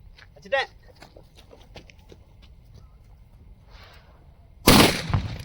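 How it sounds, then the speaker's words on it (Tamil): A large Hollywood bomb firecracker goes off near the end with one loud, sharp bang and a short rumbling tail, after scattered small clicks and a quiet stretch. "ஹாலிவுட் பாம் வந்து ட்ரை பண்ணி பார்க்கலாம் இதுவும் பெருசு தான்"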